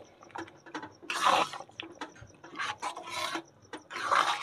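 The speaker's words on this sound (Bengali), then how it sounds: "গরম মশলা দিয়ে ভালো করে আমি একটু নেড়ে চেড়ে নেব।" A spoon scrapes and stirs thick mutton ghugni with garam masala in a pan, making repeated close rasping strokes with short pauses and no talking.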